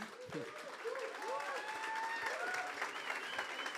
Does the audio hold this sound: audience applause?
yes